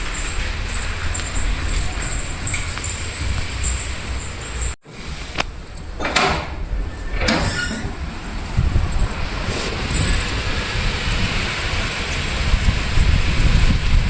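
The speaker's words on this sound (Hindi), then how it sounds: "ये देखिए जी बारिश भी है, ये बारिश, और बिजली कितनी कड़क रही है।" Heavy rain and gusting wind roar steadily on a rooftop in an evening thunderstorm, with a brief lull partway through, then the downpour continues loudly with no voices.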